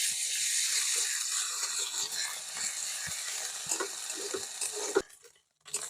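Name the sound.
ginger garlic paste frying with onions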